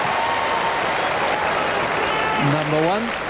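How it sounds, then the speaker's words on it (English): Tennis crowd at Wimbledon in 2002 applauding steadily on Court No. 1, broad sustained clapping with a few voices and a whistle-like tone rising over it near the end. "applause is because the score of Tim Henman's match has just come up"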